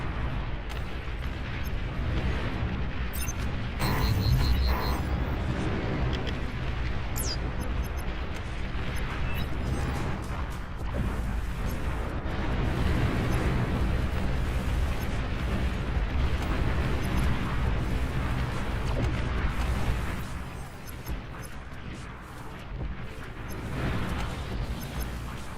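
Explosions and battle noise in the real-time strategy game Beyond All Reason as a commander unit is destroyed, a dense continuous roar of booms and blasts with brief sharper pops, loud and sustained with a slight dip near the end.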